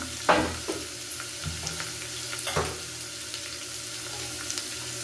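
Capsicum is stir-fried in a pan for an onion-free vegetable kootu, with a low sizzle under scattered clacks and scrapes of a spatula stirring the vegetables.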